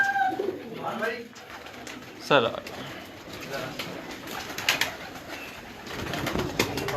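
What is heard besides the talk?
pigeons cooing on a rooftop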